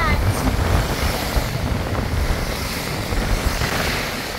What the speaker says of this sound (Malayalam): ഇതാ മഴയും കാറ്റും